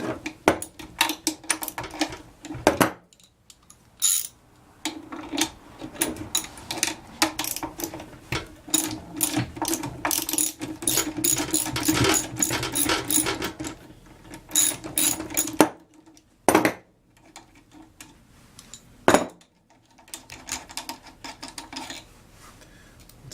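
Ratchet wrench loosening a nylon self-locking nut to remove a hydraulic floor jack's caster wheel, with rapid close clicking bursts in uneven runs separated by brief pauses and a few sharp knocks.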